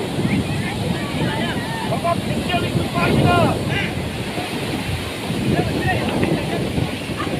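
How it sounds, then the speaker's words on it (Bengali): Sea waves on a beach at Vizag, a continuous rough wash of surf under strong wind buffeting the microphone, with people talking and shouting nearby. "ও কি ঢেউ!"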